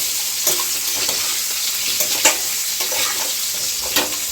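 Large pieces of eggplant fry in a pan over cumin-tempered oil, making a constant loud sizzle with periodic scrapes as they are turned.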